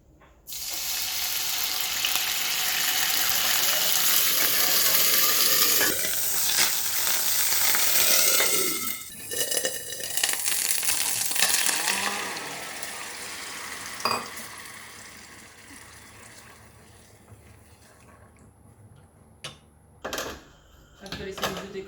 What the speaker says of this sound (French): Alors une fois la marmite bien chaude, on verse un petit peu d'huile.